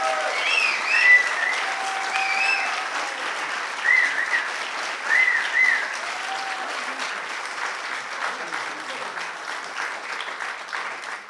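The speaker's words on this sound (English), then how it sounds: "So let's have one more round of applause for our" Applause from an audience of about 180 people seated in a dark hall for participants in a storytelling event, sustained and steady with a few louder swells and a scattered whoop or two.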